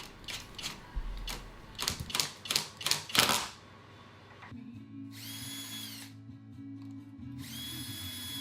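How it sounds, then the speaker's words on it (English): A string of sharp, rapid bursts from a power drill with a self-centering bit drilling a pilot hole for door hinges, then steadier whirring with high tonal whines in two stretches, close by and fairly quiet. "I used a self-centering drill bit, which is perfect for the hinges, and that just drilled a small pilot"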